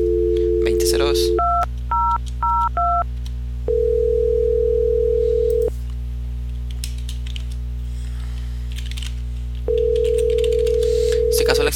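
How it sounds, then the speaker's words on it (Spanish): Touch-tone keypad beeps dial a phone extension on an Asterisk PBX system, a few quick DTMF tones in a short sequence, followed by a long steady tone, then another, loud and clear with no talking. "desde aquí voy a marcar a la extensión"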